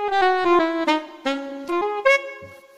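Sampled Travel Sax 2 notes played through Logic's Sampler, a short run of several sustained reedy saxophone tones with clear pitch changes, close and moderately loud, no talking.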